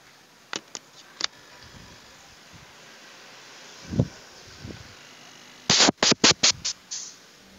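A high-pressure air tool for flushing refrigerator lines gives a few short sharp hisses, then goes quiet, then fires a rapid burst of loud, closely spaced air blasts near the end.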